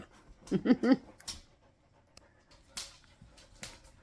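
A Doodle dog pants at a grooming session, a few quick breathy bursts early on followed by softer scattered huffs and faint noises.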